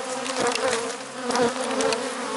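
Bees buzz steadily around a hive in an apiary, a dense, continuous drone close by with swelling and fading pitches as individual insects pass near, and no voices.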